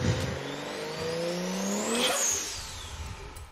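A motorbike engine fitted to a video game vehicle revs up and down, its rising and falling harmonic whine sustained and loud, with a brief screech near the peak.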